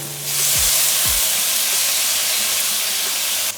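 Tomatoes hit a hot pan with ginger and garlic paste while cooking restaurant-style aloo gobi, raising a loud, steady broadband sizzle and hiss that holds for several seconds without talk.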